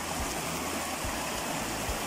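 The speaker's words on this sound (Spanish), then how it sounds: "Miren esta cascadita." A small waterfall pours continuously at close range, a broad, even rushing hiss of falling water with no voices.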